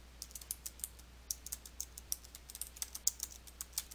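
Fingers type on a computer keyboard in quick, uneven bursts of crisp clicks, each keystroke distinct, close and fairly quiet with short pauses between runs.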